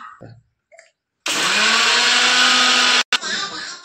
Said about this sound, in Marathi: आता आपण चणे मिक्सर मधून बारीक करून घेऊया पेस्ट